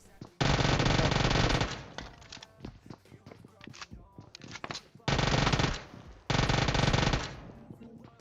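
An Uzi fires in PUBG Mobile in three loud, rapid automatic bursts, with game footsteps and clatter in the quieter gaps between them.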